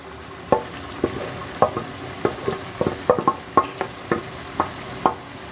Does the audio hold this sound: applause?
no